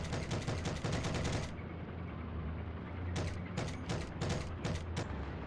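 Tank machine gun in the WW2 video game Heroes and Generals, firing two long rapid bursts separated by a short pause, loud and close with no voices.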